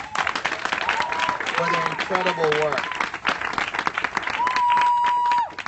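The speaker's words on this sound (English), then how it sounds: "let's give another big round of applause" Audience applause at a charity cycling kickoff celebration, steady clapping from a crowd running throughout under a speaker's amplified voice.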